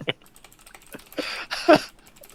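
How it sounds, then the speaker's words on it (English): Computer keyboard typing in a quiet room, scattered bursts of key clicks with short pauses, close and fairly crisp, no talking. "if you're typing, put the time that you guys are typing into the document so that Lancefer can take that out"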